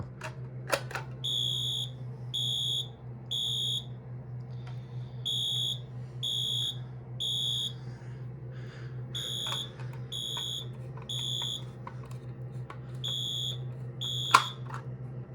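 A home-wired fire alarm system, set off from a regular light switch used as a pull station, sounds during a demonstration: loud electronic beeps in repeating groups of three, separated by short pauses, with no voices.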